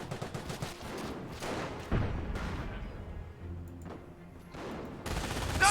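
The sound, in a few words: 17-pounder gun firing in Company of Heroes video game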